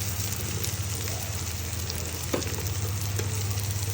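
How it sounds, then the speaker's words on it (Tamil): Fish curry powder with turmeric, chilli powder and tomato frying in oil for fish kuzhambu, a steady, close sizzle with faint stirring throughout. "போட்டு எண்ணெயிலே கொஞ்சம் வதக்கணும்."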